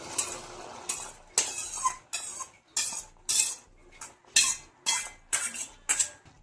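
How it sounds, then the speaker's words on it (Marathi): A spoon clinks and scrapes against a pan while sweet corn is stirred into melted butter. The clatter comes in about a dozen sharp, evenly spaced strokes, close and distinct, with no talking. "त्यामध्ये आता हे आपल्याला स्वीट कॉर्न टाकून घ्यायचे आहे"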